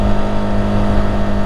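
Motorcycle engine droning steadily while riding a straight, flat road in Peru, a loud, close, even hum with rushing wind noise and no talking.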